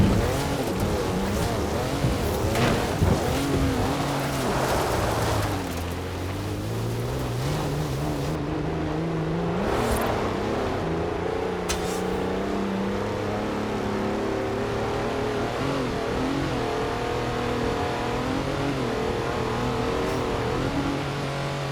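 Car engine in Forza Horizon 4, a 340-horsepower machine, droning loudly and continuously as it accelerates and shifts, the engine note repeatedly climbing in pitch through the gears with no voices.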